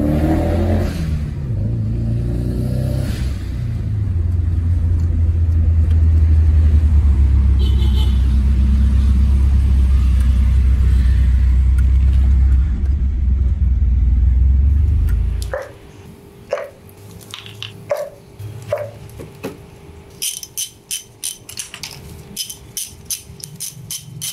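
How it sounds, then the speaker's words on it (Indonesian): Nissan Silvia S14 with a turbocharged SR20DET engine revving loudly for about fifteen seconds, a heavy sustained roar with rising pulls, then dropping to idle with sharp intermittent pops and clicks. "Kita coba beberapa kali gas dengan AFR yang aman, dengan ignition timing yang aman"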